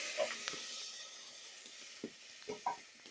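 Milk is poured into a pan of beans, onions, tomatoes and cooking fat, giving a steady soft sizzle with a few light stirring clinks and taps, close by, with no talking.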